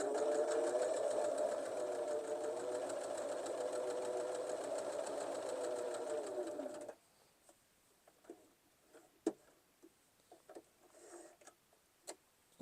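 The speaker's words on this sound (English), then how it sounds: "So we'll sew along that one as well." A sewing machine runs in one continuous, even stitching burst while sewing a T-shirt quilt, then halts abruptly, followed by scattered soft clicks and taps of fabric handling at close range.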